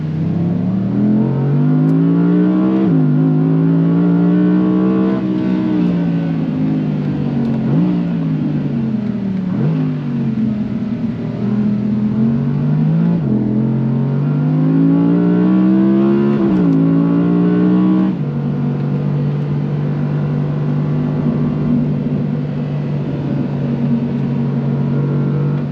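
A 2022 Audi R8 RWD Performance sports car is driven hard around a track lap. Loud engine tone climbs repeatedly through the revs, dropping sharply at each gear change before rising again, with no voices.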